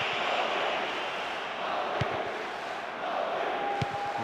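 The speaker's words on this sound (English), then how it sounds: "The rhythm of this game appreciated by the crowd. The noise level has never been anything other than incessant." A stadium crowd in the football game PES 2009 on PlayStation 2 keeps up a steady, incessant roar of noise with a few sharp peaks, heard without any talk.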